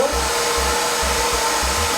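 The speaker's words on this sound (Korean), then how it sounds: "여기에 드라이기로" A hair dryer blows hot air onto a man's hair during styling, a loud continuous whir close up with a faint steady hum beneath, running throughout.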